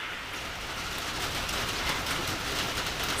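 Pouring rain outdoors where farm animals are kept, a dense, steady roar of drops hitting surfaces close by, with no talking.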